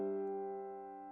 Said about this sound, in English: we're starting with that famous 1/5 chord. So it sounds something like this.